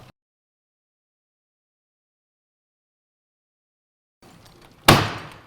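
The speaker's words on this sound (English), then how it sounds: "That sound is the sound of the torque limiter inside here clicking out" A torque limiter inside a Lift2Go R02 stair lift clicks out once after the lift reaches the top, a single sharp, close knock followed by a short decaying ring, after a long silence and some faint mechanical noise.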